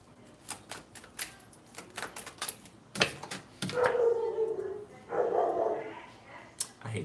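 Dog barking in the background, a few drawn-out barks and howls mixed with card shuffling and tapping noises.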